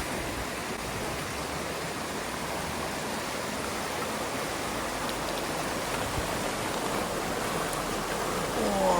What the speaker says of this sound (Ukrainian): там далі в горах тають сніги і ця вода збігає по цій річці